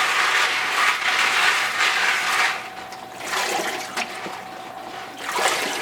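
Water runs and splashes over a metal funnel as it is rinsed under a tap, a steady rushing flow that eases off briefly midway before surging again.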